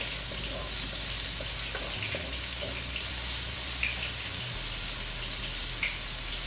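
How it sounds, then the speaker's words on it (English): Red, yellow and green peppers frying in a pan, giving a steady, close sizzle that stays even throughout, with a few light stirring scrapes and no talk. "Now I'm gonna add my peppers. I have red, yellow, and green. Let that fry a little bit."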